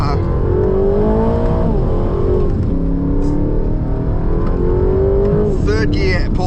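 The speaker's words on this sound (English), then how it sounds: "That's third gear pulling from low RPM." A 2025 Aston Martin Vantage pulls hard in third gear from low revs, its engine note climbing steadily and loudly with a brief dip and renewed rise, heard from inside the car with a voice talking over it.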